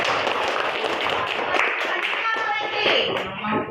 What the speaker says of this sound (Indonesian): tepuk tangan dulu untuk temannya.